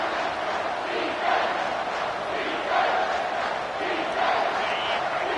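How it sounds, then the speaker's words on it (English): A packed stadium crowd roars at a college football game between Oklahoma and Utah, a dense continuous wall of cheering and yelling that swells in waves, loud and steady throughout. "these fans trying to make it impossible to communicate"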